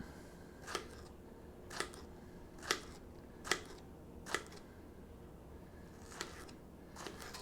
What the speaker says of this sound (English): We're going to get some zucchini, cut the top off, and we start cutting.